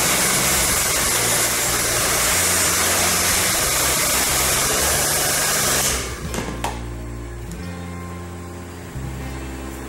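A heat gun blows a loud, steady rush of hot air onto a printed skin being applied, running continuously before cutting off abruptly, leaving a quieter fading whir and a few light handling noises.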